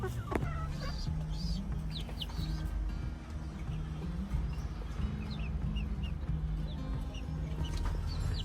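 Tiger chicks and other chickens in a loft cluck and chirp in short repeated calls throughout, a busy, fairly close chorus of fowl over low steady background noise.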